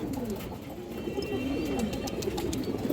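Female pigeons of high-quality fancy breeds coo in low, rolling, overlapping phrases close by, with a steady murmur running throughout and no voices.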